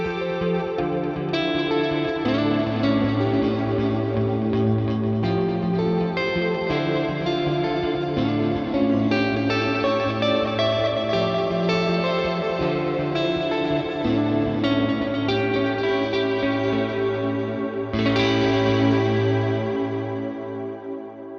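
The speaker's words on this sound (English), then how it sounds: "That is a really wonderful, warm sounding ambient preset." An electric guitar plays through an ambient preset with LFO-modulated time, chorus and light drive. Warm, shimmering chords ring out with lush, swirling sustain, loud and alone, with a brighter swell near the end.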